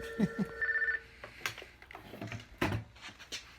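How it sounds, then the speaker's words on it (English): A telephone rings with a brief electronic trill near the start, then gives way to faint clatter, shuffling and door-like knocks in a quiet room. "I guess I get to go answer the phone now."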